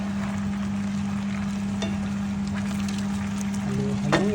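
Eggplant fries in a pan with a steady, even sizzle and a constant low hum beneath, with a few faint clinks near the end and no voices.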